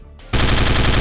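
Rapid automatic FAMAS rifle fire from Counter-Strike: Condition Zero erupts after a brief mechanical click, a loud, dense continuous burst running to the end.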